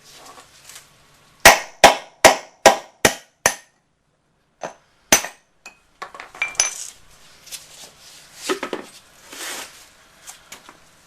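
Sharp metallic hammer strikes ring out as bearings are knocked from a riding mower wheel, a rapid series of six loud close hits, then scattered clanks and scraping of metal parts.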